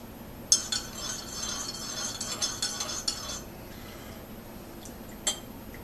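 A spoon stirs and clinks against a container of homemade root beer mixture. Bright metallic taps and scrapes come in a busy cluster early on, then thin out to a couple of isolated clinks, close and clear.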